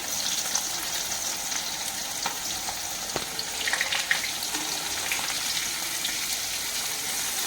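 Soft, steady sizzling of onions frying in oil, quiet and continuous with a few faint clinks.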